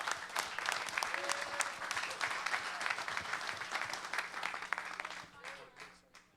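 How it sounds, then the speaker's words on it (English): Audience applause at a gym or training-factory event: a dense burst of many hands clapping, loud and sustained, that tapers and thins out near the end. "Give the round of applause to them."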